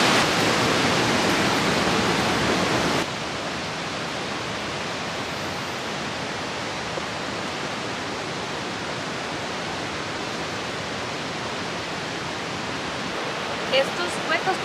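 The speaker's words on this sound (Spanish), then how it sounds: "un senderito que hay para bajar y ver el río y la catarata." A river and waterfall in Sequoia National Park give a steady, broadband rushing roar. It is loudest for the first few seconds, then settles into a constant nearby wash with no voices.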